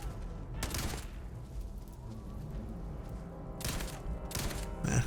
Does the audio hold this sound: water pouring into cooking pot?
no